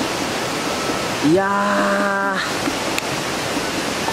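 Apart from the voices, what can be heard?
river flowing right beside a hot spring inn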